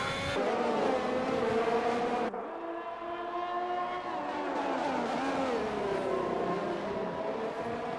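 Haas and Ferrari Formula 1 cars in a racing video game, Canada round, engines whining loudly and steadily with shifting pitch as the cars run on track, with no talk.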